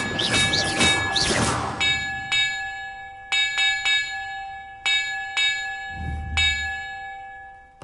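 Bells rung in the video game Hogwarts Legacy: a loud, clear chime with sustained ringing overtones, then a series of sharp repeated strikes at an uneven pace, each leaving a lingering resonant tone.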